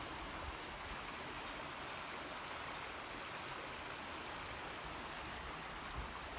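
A river flowing near an abandoned shepherd village in Las Hurdes, a continuous rushing wash of water, steady and close, with no voices.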